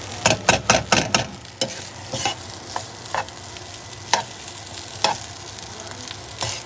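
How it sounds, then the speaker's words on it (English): Seasoned rice is stir-fried in a pan, with a run of rapid scraping stirs at first, then sparser single scrapes over a low steady sizzle, close by. "But this is how you make stir fry rice."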